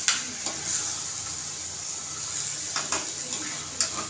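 Rice with peas being stirred in hot fat in a pressure cooker gives a soft, steady sizzle, with occasional scraping clinks of the spoon against the pot.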